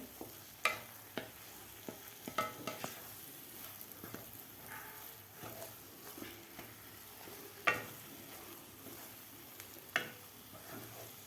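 Semolina roasting in a pan for sheera is stirred with a spoon, giving soft scraping and scattered clinks over a faint, steady sizzle, heard alone and quiet.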